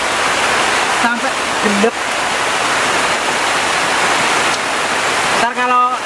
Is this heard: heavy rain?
yes